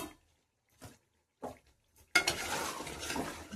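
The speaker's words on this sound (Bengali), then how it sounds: "ঢাকনাটা একটু খুলে দেখে নি।" A pot lid comes off during chicken pulao cooking: a few light clinks and taps in near silence, then a sudden burst of steady sizzling frying that carries on to the end.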